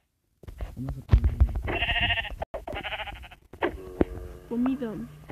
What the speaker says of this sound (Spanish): Una oveja rosa.